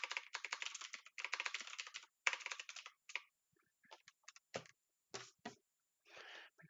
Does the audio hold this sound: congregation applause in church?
no